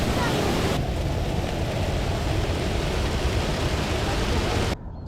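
Rushing water from the broad waterfall at Kuldiga, Latvia, where people are swimming, fills the clip as a steady, loud, close roar that stays constant until it drops slightly at the very end.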